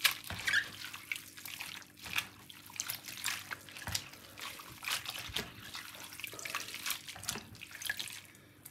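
Water drains and trickles from a batch of soaked sea moss into a sink, a steady close splashing stream with small squeaks and bumps over nearly nine seconds and no talk.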